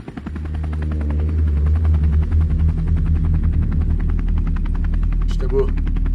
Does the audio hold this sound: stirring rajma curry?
no